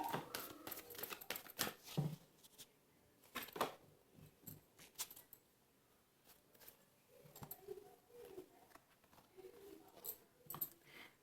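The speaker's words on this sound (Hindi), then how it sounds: "This is my last shuffle." Tarot cards being shuffled, a quiet run of crisp flicks, riffles and soft rustles in irregular bursts, close and faint, with no talking.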